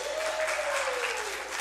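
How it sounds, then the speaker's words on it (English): A church group gives a round of applause during a core values session, brief steady clapping from a gathered audience in a room, moderately loud with no speech over it. "Give him a round of applause, please."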